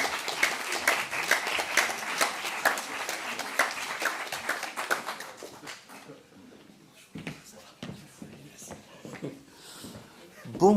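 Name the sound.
audience applause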